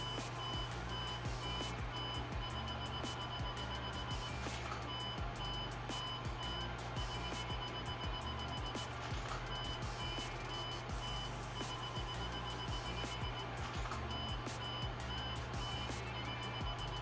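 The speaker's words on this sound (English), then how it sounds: "The camera will start beeping and the AF lamp will flash." Self-timer on a Nikon D5600 DSLR beeping, a steady series of short, evenly spaced tones that run through the whole stretch over a constant low background hum.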